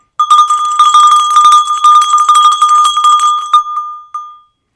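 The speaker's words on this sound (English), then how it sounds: "it very well might resemble an early bell that might have been used in the Middle Ages to call people to prayer or services" A small handheld bell resembling an early medieval church bell is shaken rapidly, producing a loud, continuous bright ringing for several seconds before a final strike that fades away.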